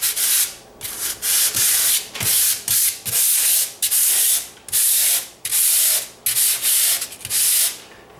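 Hand sanding of a drywall patch produces repeated rhythmic scraping strokes, about two per second, each a loud hissing rasp with short gaps between strokes.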